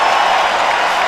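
A basketball arena crowd at Kentucky versus Bucknell roars and applauds in a loud, dense, continuous wash of cheering from a standing audience.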